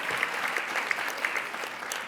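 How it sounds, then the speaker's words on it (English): A room full of people claps steadily throughout, a dense and even patter of applause heard from a little distance. "I think that deserves applause"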